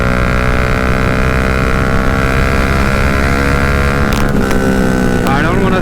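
Bajaj Dominar 400 motorcycle with a very loud exhaust, a continuous heavy engine drone up close with wind buffeting and a rising rev near the end, a voice speaking over it.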